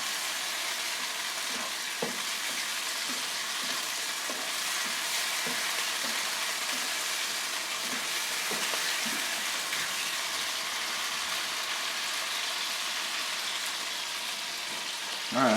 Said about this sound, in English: Let this simmer off when I get this wine all reduced.